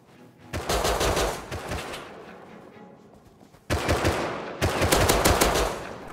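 Gunfire in the survival game Rust, loud sustained automatic bursts in three clusters separated by a brief lull, close and dominant with no talking.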